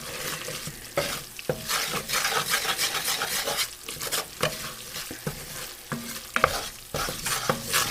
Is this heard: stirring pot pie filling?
yes